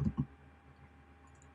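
Two quick computer mouse clicks form a double click at the very start, crisp and close, followed by quiet room tone.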